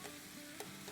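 Rice and vegetables frying on a high flame give a faint, steady sizzle, with brief stirring scrapes during one short moment and no talk.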